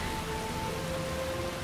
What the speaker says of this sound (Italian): E piove. Sempre brutto tempo.